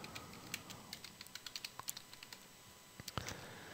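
Typing on a computer keyboard, a steady run of light, close key clicks in quick rhythm that pauses briefly, then resumes with a few louder strokes against a faint background hum.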